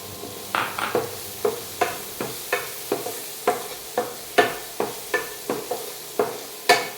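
Crushed spice mix for tom yum pasta sizzling in a hot pan, with a steady frying hiss under a brisk, regular series of sharp scrapes and clacks as a utensil stirs it, close and fairly loud.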